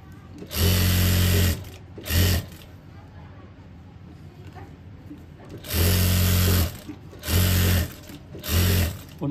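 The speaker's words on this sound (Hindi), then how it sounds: "एक सिलाई लगाएंगे बिल्कुल इसके साथ साथ।" A sewing machine stitches a shirt collar, running a seam alongside the pasting over buckram. It whirs in several short, loud bursts separated by brief pauses.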